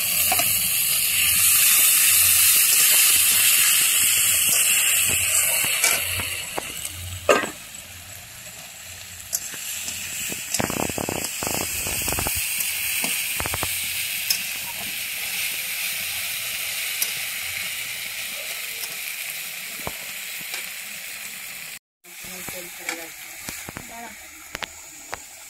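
Ginger garlic paste with chopped tomato and green chilli frying in hot oil: a loud, close sizzle at first that settles into a steadier, quieter crackle with occasional utensil clinks and a brief break near the end.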